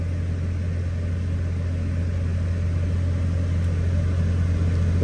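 Steady, even hum of a car engine held at about 1700 RPM, a constant low drone with no change in pitch, running alone at moderate level.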